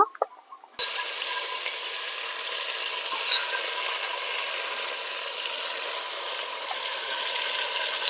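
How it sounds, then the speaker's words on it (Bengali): A brief clatter, then mutton drops into hot oil with whole spices and a loud, continuous sizzle and crackle fills the rest, close and steady. "গোটা মশলাগুলো হালকা ভাজা হয়ে গেছে এবার আমি মাংসটা দিয়ে দেব"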